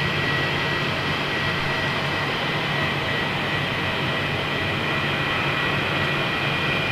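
A FedEx jet taxiing to park beside a 757 at Cologne Bonn Airport, a steady broadband engine roar and whine that stays loud and unchanging throughout, with no talk.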